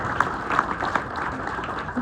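Audience applause at a magic lecture, a steady patter of many hands clapping at moderate volume, filling the room without a clear pause.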